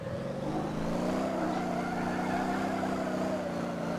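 Car engine holding a high, rising rev with a steady harmonic whine while drifting and burning tyres in the video game Motor Town: Behind The Wheel, continuous and close with faint tyre roar underneath.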